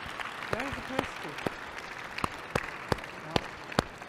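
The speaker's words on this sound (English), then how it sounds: "Let's give them a big applause." Scattered, sparse clapping at a conference celebration dinner, with distinct individual claps spaced out over a room murmur and a voice speaking briefly near the start.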